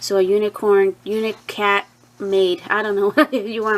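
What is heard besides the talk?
None of the usual background noises is heard.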